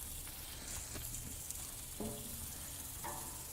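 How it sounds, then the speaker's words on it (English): Bacon-wrapped jalapeño poppers sizzle steadily on an American Muscle grill, a constant crackling hiss with a few sharper pops and spits over it. "Listen to that sizzle."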